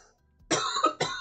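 A person with a cold gives two harsh, close coughs in quick succession, each a short rough burst with a brief gap between them.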